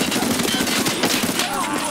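Rapid automatic gunfire rattles loud and close in a first-person shooter game, with a steady stream of shots for about two seconds and faint talk underneath.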